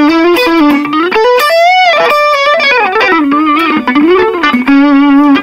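An electric guitar plays a melodic single-note line through a NUX Mighty Air practice amp with a distortion tone, dry with no delay or reverb, loud and close with sustained bends and a brief pause midway.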